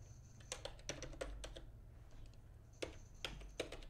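Computer keyboard typing a command on a Windows 10 PC: irregular bursts of sharp key clicks, a few quick taps clustered together with short pauses between, close and fairly quiet over a low steady hum.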